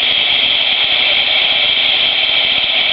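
A small electric motor run at about 6 volts spins at over 1,000 RPM, giving a steady, close, high-pitched whine that holds constant throughout with no talking.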